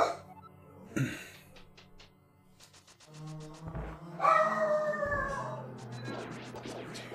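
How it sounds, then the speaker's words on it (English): Dogs in a house bark and howl in bursts at close range, with shouts and laughter over them. "Freaking dogs, dude. They bark at everything."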